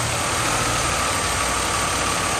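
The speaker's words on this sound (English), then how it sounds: "Our engine right now is running smooth" A car engine runs smoothly at a steady idle, making a continuous, even hum with no talking.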